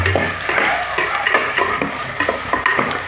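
Two medium onions frying in a pan for Kerala-style chicken curry, with a close steady sizzle and repeated scraping strokes of a spoon stirring through them; no voices.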